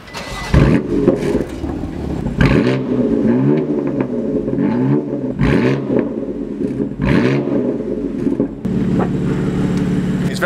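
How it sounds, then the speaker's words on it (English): BMW M4 DTM race car engine revved hard several times in short bursts, each blip rising and falling loudly, then settling into a steady idle, alone without talk. "I'm gonna go and give it a little rev and annoy everyone in the facility"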